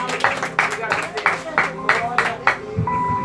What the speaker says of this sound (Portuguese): Você pode aplaudir Jesus Cristo por essa palavra?